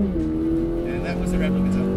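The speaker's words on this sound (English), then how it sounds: "And that was the rev limiter." A 2023 Toyota GR86 sports car engine is held at high revs against the rev limiter, giving a steady, buzzing mechanical drone with faint wavering, heard up close from the cabin.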